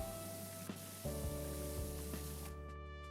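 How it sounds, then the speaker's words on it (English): A power washer blasts rust off a surface in Powerwash Simulator 2, a steady close hiss of spray running throughout with a few brief bursts and shifts as the nozzle moves. "Good thing I've got this power spray. I can just destroy rust."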